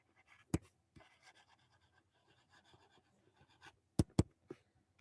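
Marker or chalk writing on a board during a finance lesson, with a handful of sharp taps and short scratchy strokes in a quiet room and brief gaps between them.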